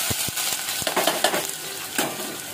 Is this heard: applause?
no